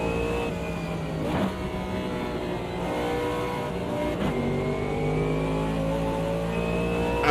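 Race car engines in the game Automobilista 2 on the Nordschleife roar continuously and loudly, with droning harmonic tones that rise and fall through gear changes and brief bursts as other cars pass close by.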